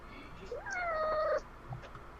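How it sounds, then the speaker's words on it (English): A house cat lets out a single drawn-out, rising then falling angry meow, close and clear, followed by a faint short chirp against a quiet room. "That is a pissy kitty."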